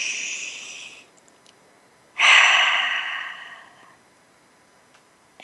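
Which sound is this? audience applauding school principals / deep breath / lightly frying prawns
deep breath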